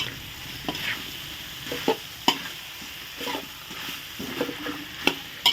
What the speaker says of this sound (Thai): ผัดมะเขือก่อน ผัดมะเขือก่อน